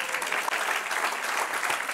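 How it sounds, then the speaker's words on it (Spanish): Church congregation claps during a Spanish-language sermon, a dense, even roar of many hands filling the room, steady and fairly loud for the whole stretch with no voices standing out. "Dale un aplauso al Señor"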